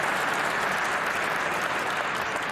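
Steady, dense applause fills the room at a 2023 World Pool Championship final in professional 9-ball, continuous clapping from a large crowd with no break.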